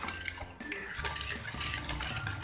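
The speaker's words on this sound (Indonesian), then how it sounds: "Ini akan kita aduk rata ya teman-teman." Brownie batter made with rice flour being stirred in a bowl, a spoon scraping and clinking against the sides in a steady run of close, busy strokes with no talking.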